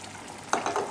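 Chicken and green chili frying in a pan over high heat, with a soft steady sizzle broken by a few brief louder bursts of stirring and spattering near the end.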